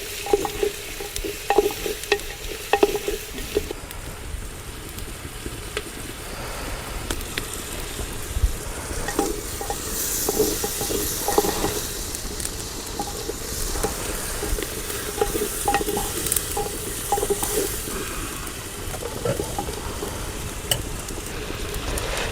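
Onions and green chillies sizzle and fry in oil for a little-millet (saame rice) uppittu, with a steady crackling hiss and occasional stirring scrapes across the whole stretch, no talking.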